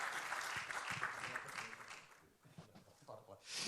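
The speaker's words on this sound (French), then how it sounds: "applaudissements général pour cette fin de soirée" An audience at an evening trophy presentation claps in a dense, steady wash that fades toward the end, with a voice talking over it.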